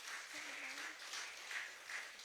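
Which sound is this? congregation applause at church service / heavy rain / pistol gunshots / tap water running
congregation applause at church service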